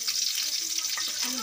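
Chopped onions sizzle and fry in hot oil in a Bengali home kitchen, a close, steady crackling hiss with faint stirring.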